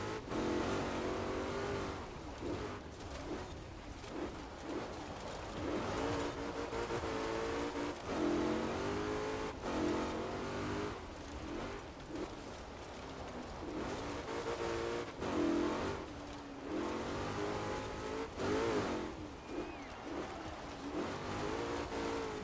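A rally car in the Forza Horizon 4 racing game revs and shifts continuously, its engine droning and rising and falling in pitch through gear changes, loud and close with no talk.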